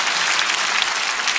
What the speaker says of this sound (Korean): 우리 박사님 박수하겠습니다.